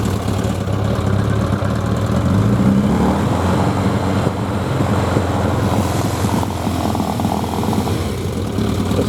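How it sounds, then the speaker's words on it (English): A Suzuki 1100G motorcycle engine with a running fault runs steadily and loudly up close, holding a raised rev with a dense, rumbling drone and a few faint pops mixed in. "there's some backfiring"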